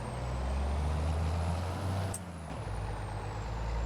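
A heavy truck engine in a video game idles with a steady low rumble, broken midway by a sharp hiss of an air brake release, then the rumble carries on.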